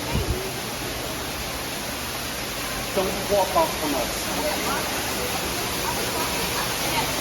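Waterfall along a walking path on a Houston trip, a steady broadband roar of falling water filling the whole clip, with people talking over it.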